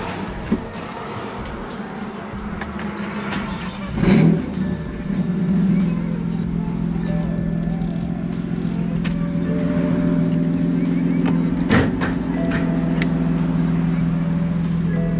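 A BMW F80 M3 S55 twin-turbo inline-six idles steadily with its fuel pump module disconnected, a close, continuous low engine drone with a brief bump and a sharp click partway through, running on until fuel starvation.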